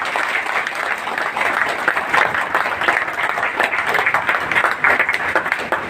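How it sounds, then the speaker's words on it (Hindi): Loud, steady applause from a crowd welcoming a minister at a public ceremony in Muradpur, dense clapping sustained throughout without a break. "चलिए दोस्त एक जोरदार ताली के साथ का स्वागत करते हैं"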